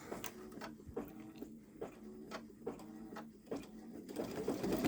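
A Baby Lock Solaris embroidery machine stitches a flower and hummingbird design, its needle thumping in a steady, fast rhythm close by, with whirring motor tones underneath and no talking.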